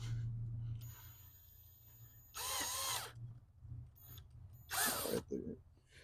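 A power drill with a small bit bores a pilot hole for a 5-gallon bee swarm trap, whining in two short, close bursts separated by a quiet pause.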